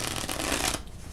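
A deck of Onirim playing cards is shuffled close by, a quick rapid riffling burst lasting under a second before it stops, with no talking.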